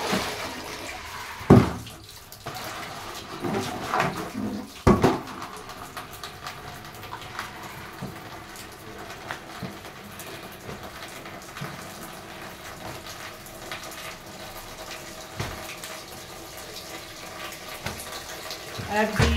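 Clothes being washed by hand in water, with splashing and sloshing through most of the stretch, sharp louder splashes now and then, and someone talking over it.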